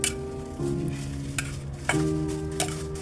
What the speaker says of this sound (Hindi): ये मिक्स कर रहे हैं हम इसको। रायता हमारा तैयार हो चुका है।